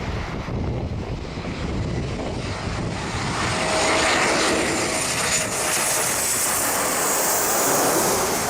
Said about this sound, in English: This Embraer 190 had to make an emergency landing without its nose gear.